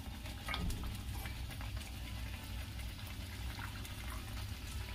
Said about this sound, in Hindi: मैं थोड़ा पानी और डालूंगी।